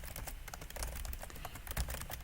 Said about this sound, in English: mashing keys away, and let's hit enter there.